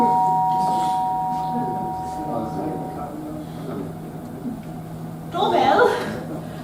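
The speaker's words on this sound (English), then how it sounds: "It's a bit late for a doorbell, don't you think?" A doorbell rings late at night indoors, a soft sustained chime tone under people talking, with a brief chuckle near the end.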